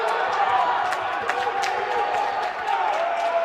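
A crowd cheering at a men's college wrestling match in a performance gym, a steady roar of voices and whoops with some clapping, fairly loud and continuous throughout.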